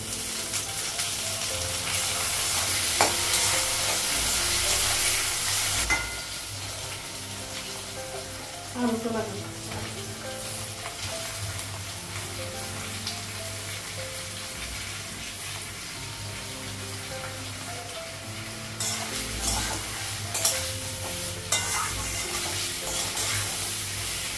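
Onions and green chillies fry in a pan in a home kitchen, a soft continuous sizzle with a loud splash-like burst early on and occasional scrapes and clinks of stirring.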